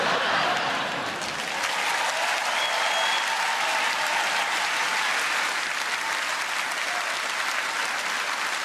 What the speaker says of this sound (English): It's a pretty tasteless round of applause, if I'm being honest with you.